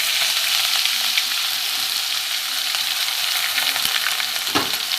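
Dried red chilli and two bay leaves fry in hot oil for a spiced chicken dish, giving a steady, fairly loud sizzle that runs the whole time, with a few small crackles near the end.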